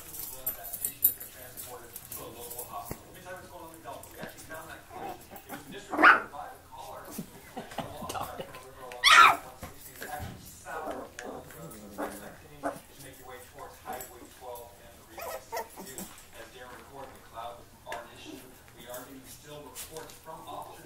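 Six-week-old puppies yip and whimper among clattering and rustling, with a person talking over them and two sharper squeals standing out.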